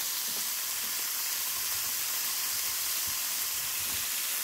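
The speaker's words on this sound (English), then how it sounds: "this is ready when you can hear that loud sizzle in here" Hamburger meat with carrot sizzles loudly and steadily in a hot pan, a continuous bright frying hiss with faint crackles and no talking.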